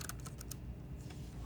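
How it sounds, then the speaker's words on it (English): Keys clatter on an external computer keyboard, a quick run of sharp close clicks followed by a pause and a couple more taps, over low steady room hum with no talking. "now using my external keyboard, I can type in gobo rotator."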